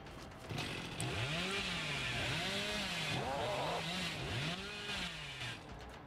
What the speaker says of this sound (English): Dude, I'm no good with this chainsaw.